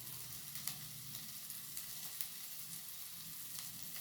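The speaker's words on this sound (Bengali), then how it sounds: "খুব ভালো করে আমি একটু ভেজে নেব মাছটা দিয়ে" Fish frying in a pan gives a steady, faint sizzle with light crackles throughout.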